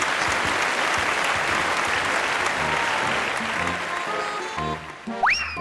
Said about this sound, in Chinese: 这村主任出场，这掌声也不激烈